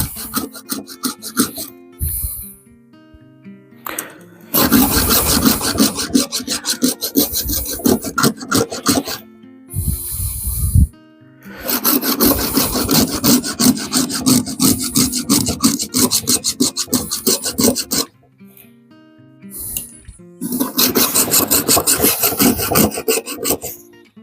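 A Stihl 180 chainsaw chain being sharpened with a hand file, heard as loud, close rasping strokes in rhythmic bursts of several seconds with short pauses between them.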